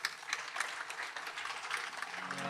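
Audience applause at the final night of a five-night Bhakti Gyan Yagna religious gathering, a soft, steady wash of many hands clapping at a distance, with faint music or voices creeping in near the end.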